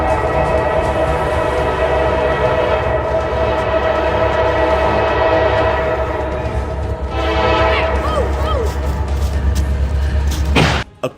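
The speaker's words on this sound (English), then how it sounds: "the massive train crashes into it" A train bears down on a car stuck on the tracks in Georgia, a loud, continuous rumble with a sustained horn, ending in a sharp crash of impact near the close.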